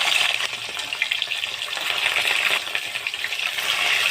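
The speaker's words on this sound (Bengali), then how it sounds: "মাছগুলো এবার ভেজে নেব" Pieces of katla fish fry in hot oil with a bright, crackling sizzle, steady and close throughout with small pops and stirring, no voices.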